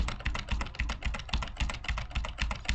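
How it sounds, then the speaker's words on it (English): Fast, steady typing on a computer keyboard, dense clicking keystrokes in a continuous rhythmic run, close and clear with no talking. "Rhythmic typing."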